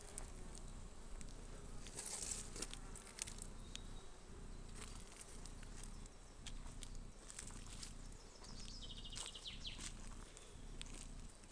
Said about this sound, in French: Ici on a un essaim qui est un peu en avance sur les autres.